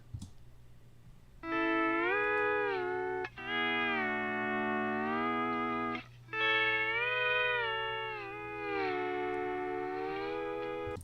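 An electric slide guitar plays a few long, gliding notes with bending pitch, dry and unreverberated, separated by brief pauses.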